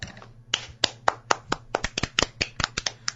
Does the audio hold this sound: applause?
yes